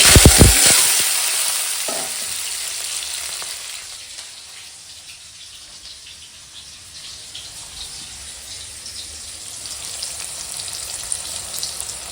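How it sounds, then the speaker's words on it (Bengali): Dried red chillies and mustard seeds hit hot oil in a kadai for a sour mango dal tempering, bursting into a loud crackling sizzle that fades over a few seconds to a quieter, steady fizz, with no voices. "এখন কড়াই তেল দিয়ে দিয়েছি এখন দিচ্ছি শুকনো লঙ্কা আর সর্ষে ফোড়ন"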